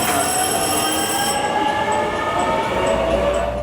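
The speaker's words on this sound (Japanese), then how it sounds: "ここで高松へ行く石鎚30号を切り離します。 石鎚30号が先発です。" A Japanese limited express train on a JR Shikoku line, at Tadotsu station, pulls away as the Ishizuchi service departs for Takamatsu; steady close rolling rumble with high squealing wheel tones fading after the first moments, no talk.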